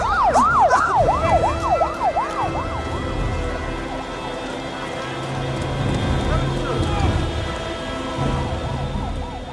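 A wailing ambulance siren sweeps up and down loudly at first, then fades into a noisy din of shouting voices and rumbling background.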